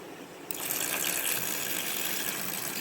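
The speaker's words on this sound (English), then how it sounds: "now we're going to pour some more in there" Liquid is poured into a jug during gold recovery work, a steady close gush and splash that starts abruptly and continues evenly, moderately quiet, with no talk.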